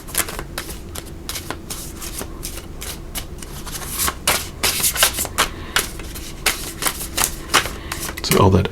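Large tarot cards being shuffled by hand, a rapid run of crisp, close riffling bursts repeating in uneven clusters, fairly loud and steady, ending in a slightly heavier knock.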